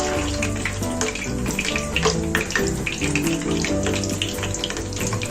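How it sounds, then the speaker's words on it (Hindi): Flower-shaped potato snacks sizzle and crackle in hot oil as they fry to golden, a loud, dense, steady hiss with bubbling close by. "और फिर हम इसको फ्राई करेंगे जब तक इसका अच्छा सा गोल्डन कलर ना आ जाए"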